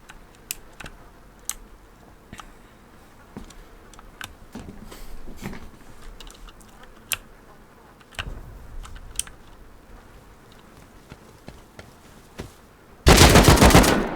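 Gunfire in the survival game Rust during an online raid: scattered sharp single shots crackle throughout at moderate level, then a loud dense burst of rapid fire erupts near the end.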